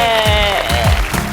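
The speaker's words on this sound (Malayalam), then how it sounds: "അപ്പൊ അതിന് നമ്മൾ കയ്യടി കൊടുക്കുന്നു" Studio audience clapping on a Malayalam comedy show as it heads into a short break, a steady mid-level patter of applause with no talk over it.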